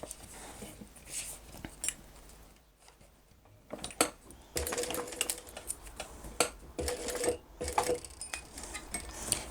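A sewing machine stitches along the bottom of a Sander crossbody bag, in short rapid bursts with brief pauses between runs, close and fairly quiet.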